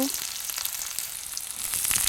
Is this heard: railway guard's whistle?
no